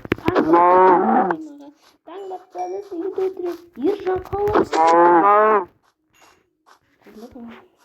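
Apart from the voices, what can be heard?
cow mooing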